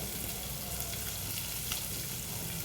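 Mustard seeds, salt and turmeric sizzle and crackle steadily in hot oil, forming a dense, close, continuous frying hiss with no talking.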